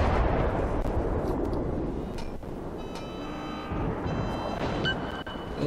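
Naval gunfire from a battleship in a combat video game, heard as a dense, continuous roar of shell blasts and rumbling explosions, with tonal game effects and beeps layered on top.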